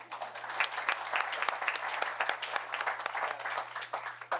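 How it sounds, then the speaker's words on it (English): Applause for the police chief at a town board meeting, a room of people clapping steadily at moderate volume, with distinct individual hand claps audible through the group sound and a low electrical hum beneath. "You can applaud for Chief as well."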